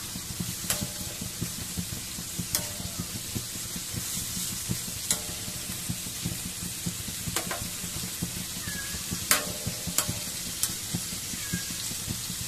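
Chicken browning in its own oil in a pan, a steady close sizzle and crackle with occasional sharp scraping and stirring clicks throughout.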